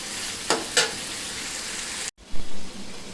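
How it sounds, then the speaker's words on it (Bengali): Mutton masala fries in a pot with a constant hiss, broken by two scraping stirs early on, a brief gap, then a couple of duller stirring knocks. "শুধু ভাজা ভাজা হচ্ছে, এই জন্যই নাড়াচাড়ার মধ্যেই রাখতে হবে।"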